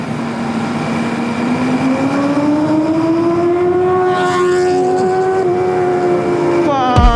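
A loud BMW car engine drones steadily past, its pitch slowly rising as it draws near, with a rattling burst right at the end.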